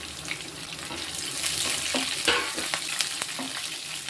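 Sliced onion, dried red chillies and curry leaves sauté in hot oil, giving a loud, continuous sizzle broken by scraping stirs and occasional sharp pops and clicks of the spoon, with no talking.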